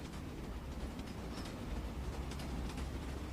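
A train running along the rails, a continuous rumbling roar with rhythmic clicking and faint metallic squeals, steady and fairly close, with no voices.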